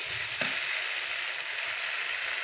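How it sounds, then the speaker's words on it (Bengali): Pointed gourd cooks in hot oil with spices, giving a steady, close broadband sizzle that runs unbroken throughout, with one brief clink near the start and no voices. "তো একটু ভালো করে তেল মশলা দিয়ে বেশ ভালো মতো কষিয়েই রান্না করছি"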